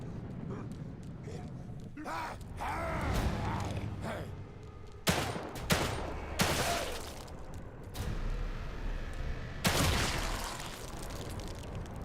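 Gunfire in The Evil Within 2, several sharp loud shots and booms spaced across the stretch with rumbling game ambience and effects between them, a player's voice talking at times over the action.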